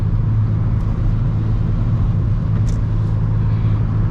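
Steady road rumble from a car cruising along a highway near trucks while changing lanes, a continuous low drone with faint tire hiss and no talking.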